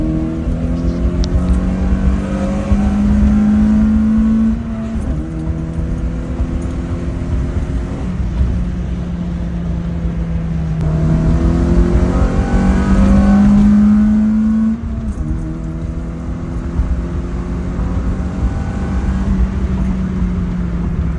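A Honda Fit engine revving hard on track and climbing into VTEC, rising through the gears in repeated long pulls with brief drops at each shift, loud and continuous.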